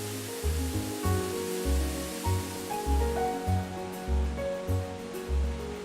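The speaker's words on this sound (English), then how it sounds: "It's about a 60-foot sheer drop into a nice little pool. Beautiful waterfall." Lookingglass Falls in Pisgah National Forest, a 60-foot sheer drop into a small pool, sends up a steady, full roar of falling water that fills the whole stretch without pause.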